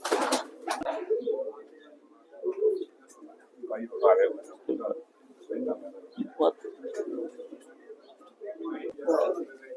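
Pigeons coo repeatedly in soft, close bursts at a loft of high-flying pigeon breeds, mixed with rustling and wing flutters while people talk quietly nearby.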